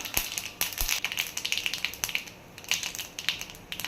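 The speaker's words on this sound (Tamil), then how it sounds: "எண்ணெய் ஊற்றி கடுகு சேர்த்துடலாம்." Mustard seeds spluttering in hot oil for a Tamil tempering, a quiet, irregular run of sharp crackles and pops heard close up with nothing else over it.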